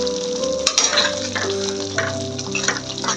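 Green peas drop into a hot pan and sizzle and crackle loudly, with a few sharp pops and the clink of a utensil stirring them about, all heard close up.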